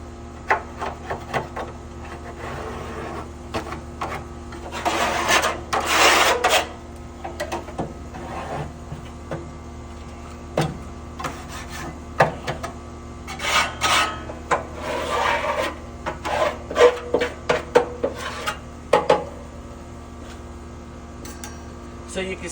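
A tool rasps and scrapes ash and buildup off the inner sides of a Traeger pellet smoker in short, irregular bursts of gritty scraping, with quieter gaps between strokes.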